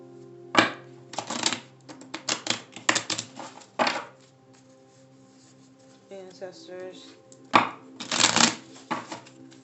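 Tarot cards are riffled and shuffled in quick bursts of papery flicks and taps, close up, with a brief soft murmur in a pause.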